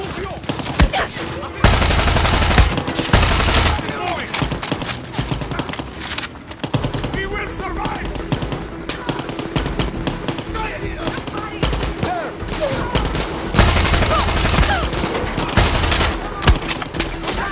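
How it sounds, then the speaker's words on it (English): Gunfire in the Far Cry 6 prologue: loud sustained bursts of automatic fire and scattered shots, dense and close, with game voices and effects mixed in. "Someone is shooting."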